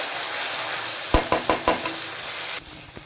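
Garlic paste and spices stir-fried in a pan, with a steady sizzle underneath four or five sharp spatula scrapes in quick succession, then a quieter sizzle and one last soft clink.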